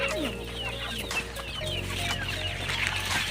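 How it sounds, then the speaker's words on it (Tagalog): Several chickens cluck steadily over a low, constant background hum, with no one speaking. "Ito nga pala yung mga manok namin sa bukid."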